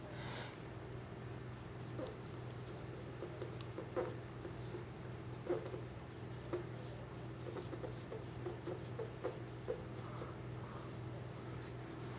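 Pen scratching steadily across paper as a Class 10 linear-equations word problem is written out by hand, with small taps and strokes over a low room hum and no talk.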